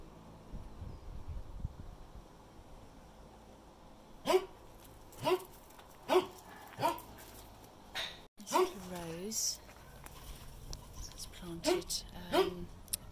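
A dog barks several times at irregular intervals, moderately close, with a person talking softly in between.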